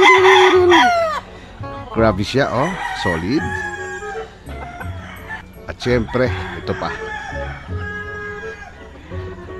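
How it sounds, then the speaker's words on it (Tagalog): Roosters at a game farm crow loudly and up close, with clucking fowl and a dog barking briefly in the mix, while people talk over and between the calls. "Ayan yung mga ibang mga manok."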